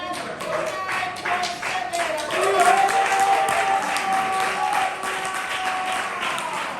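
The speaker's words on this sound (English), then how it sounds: "Keep that applause going for Groovy Grandma." A crowd applauds at a poetry slam, dense sustained clapping that swells in the middle, with voices and a few cheers over it.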